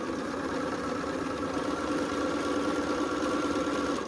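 A sewing machine runs in one continuous, steady mechanical whir while stitching a Southwest-style quilted blanket, with no pauses and no talking.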